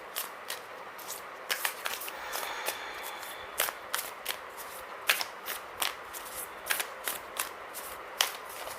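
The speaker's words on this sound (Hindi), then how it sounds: "मैं आपके और अदर कार्ड्स उठा लेती हूँ" Tarot cards are picked up and shuffled up close, making a quiet run of crisp riffling snaps and soft papery slides in an irregular patter.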